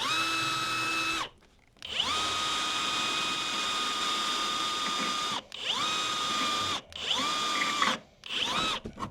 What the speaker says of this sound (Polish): Rozwiercimy tutaj, w tych miejscach, gdzie są dziurki po wkrętach.